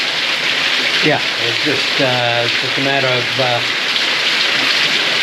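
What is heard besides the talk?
rain while hiking the Camino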